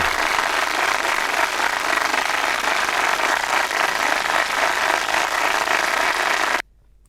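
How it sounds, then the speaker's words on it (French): Dense, steady applause from an audience honouring a reader after a reading on a French broadcast, filling the air evenly for several seconds before cutting off abruptly into silence. "Un tonnerre d'applaudissements, s'il vous plaît, pour la drôlesse."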